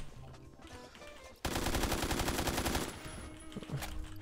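Rapid automatic gunfire from a gun in the Roblox video game, a dense loud burst lasting over a second after quieter game ambience, then fading into background sounds.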